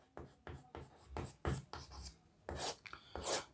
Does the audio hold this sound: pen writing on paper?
yes